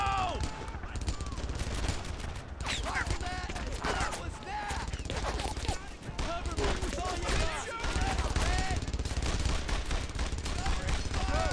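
Dense machine gun fire and rifle shots from the World War II shooter Brothers in Arms: Earned in Blood, a nonstop loud rattle of overlapping bursts with occasional voices talking through it.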